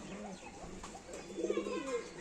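A Saharanpuri pigeon, a well-bred male, coos in a few soft, close, rolling calls that rise toward the end of a brief stretch, with faint background noise and no talk.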